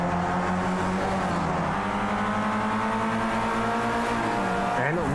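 Open-wheel race cars in a Formula series race on the Long Beach street circuit, engines droning at high pitch through a left-hand corner, several cars close together with shifting revs, loud and continuous.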